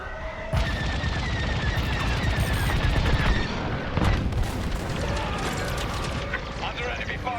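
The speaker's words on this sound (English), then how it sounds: "Under enemy fire." Enemy fire in the Star Wars: Squadrons space-combat video game: dense, loud rapid bursts of blaster shots and booming impacts over a constant engine roar, with rattling volleys throughout.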